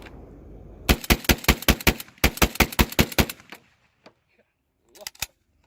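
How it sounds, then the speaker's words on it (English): A Pro Series M semi-automatic bullpup shotgun fed from a 12-round drum fires about a dozen loud, sharp blasts in quick succession, followed by a few faint clicks and handling noises. "We can go ahead and put a few rounds through this thing."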